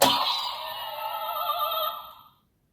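A bright electronic chime from a toy transformation belt, Henshin Belt Bitter Gavv, rings out when pulled with a high, wavering tone, sustained for about two seconds before cutting off abruptly.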